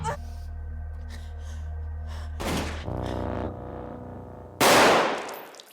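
A sharp, loud pistol shot bursts out near the end of a horror film scene, following a couple of duller impacts over a low sustained drone.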